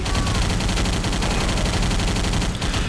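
Continuous dense gunfire from the Wake Island mission of a shooter video game, a loud unbroken barrage of rapid shots and blasts filling the whole stretch without pause.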